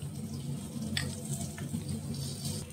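Eggplant frying in hot oil while cooking Bengali ilish fish tel jhal, a soft continuous sizzle and crackle with light stirring, close and steady.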